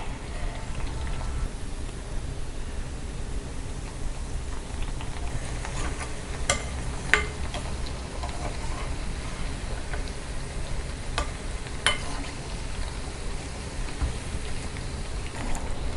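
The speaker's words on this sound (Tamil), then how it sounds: "சிம்மில் வச்சுட்டு ஃப்ரை பண்ணணும்" Wheat biscuits frying in oil over a low flame, a constant gentle bubbling sizzle with a few faint clicks of a utensil against the pan.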